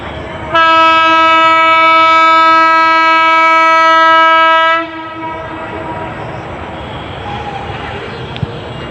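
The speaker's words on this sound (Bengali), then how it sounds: "ঠিক এই মুহূর্তে একটা ট্রেনও আসছে চট্টগ্রাম থেকে, সম্ভবত লোকাল ট্রেন" A local train approaching from Chattogram on the Mymensingh–Chattogram railway blasts a loud, steady horn for about four seconds, then a low rumble and outdoor ambience continue after it stops.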